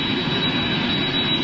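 A freighter jet, a 767 cargo plane bound for Portugal, roars past as a loud, steady broadband engine rumble with a high whine on top, filling the whole moment without any talk.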